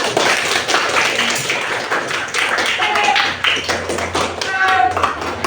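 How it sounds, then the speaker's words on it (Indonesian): A class of students in a teaching-practice lesson claps for themselves, a close, uneven burst of hand claps and taps with some young voices mixed in. "Tepuk tangan untuk diri kita sendiri"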